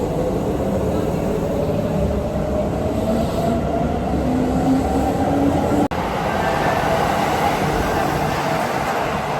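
Steady rumble and roar of a Kyoto metro train in motion on the Keihan line, heard from inside the carriage, with a faint rising whine and a brief sharp click midway.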